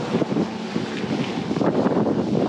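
Strong wind buffets the microphone along a running trail after rain, with gusty, uneven rumbling and hiss filling the short stretch and no voice over it.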